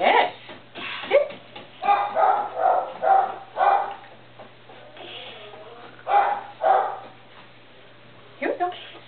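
A five-week-old puppy lets out short, high yips and barks in scattered bursts, close by, mixed with a person speaking to it.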